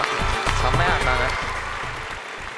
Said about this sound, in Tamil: அவங்களுக்கு ஒரு பெரிய கைத்தட்டல் கொடுத்துடலாம்.